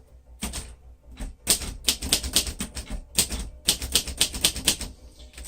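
A 1947 Royal Quiet Deluxe manual typewriter with Elite type clacks through a typing test, rapid irregular keystrokes striking loudly and close with brief pauses between bursts.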